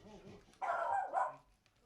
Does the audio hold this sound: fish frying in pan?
no